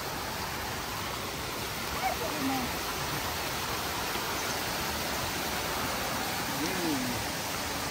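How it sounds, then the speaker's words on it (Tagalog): A strong spring-fed stream rushes along a mountain trail near Buscalan, a steady broadband roar of water running continuously and evenly throughout. "Ah, malakas na yung tubig, oh. Bukal lang yan"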